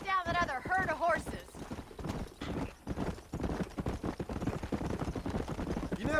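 Hooves of galloping horses clatter in the Red Dead Redemption video game, with neighing and whinnying early on and other game noises mixed into the busy, moderately loud scene.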